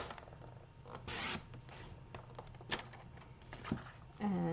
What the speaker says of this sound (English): we're just gonna cut this at 5 1/4